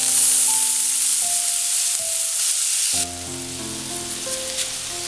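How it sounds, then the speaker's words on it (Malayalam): Washed rice frying in oil in a pot with whole spices for Zurbian rice, a loud close sizzle with a bright hiss and repeated stirring scrapes, softening partway through, with no speech. "ഈ അരി എണ്ണയിലൊന്ന് നന്നായിട്ടൊന്ന് വറുത്തെടുക്കണം."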